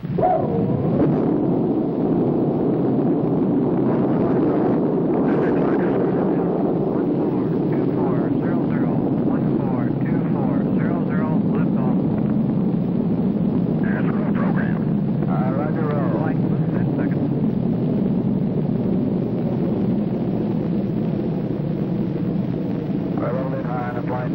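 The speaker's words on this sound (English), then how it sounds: "crew launched the Molly Brown spacecraft on its three-orbit flight" A rocket carrying the Molly Brown spacecraft lifts off from Cape Kennedy in 1965 on a three-orbit flight, producing a loud, continuous broadband roar that holds steady throughout, with voices talking over it.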